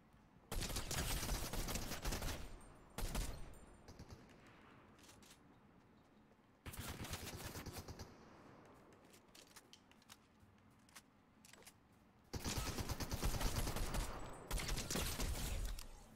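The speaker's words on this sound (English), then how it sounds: "Who's shooting at me?" Fortnite gunfire comes in three loud bursts of rapid shots, separated by quieter stretches with scattered single cracks and faint background game sound.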